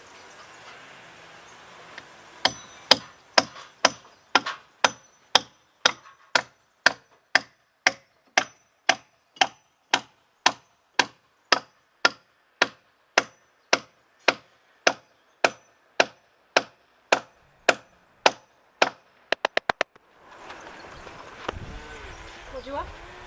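Nails are hammered into wood while building a garden room cabin, about thirty-five sharp, evenly spaced blows at a steady rhythm. The run ends in a quick flurry of taps, followed by fainter rustling.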